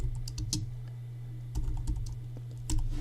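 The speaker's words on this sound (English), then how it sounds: "I'm going to type just a little information" Keys on a computer keyboard clack in short irregular bursts of typing, close and clear, with brief pauses between the clusters of keystrokes and no voices.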